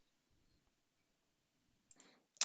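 A few faint, close computer mouse clicks sound near the end, a soft pair followed by a sharper single click against near silence.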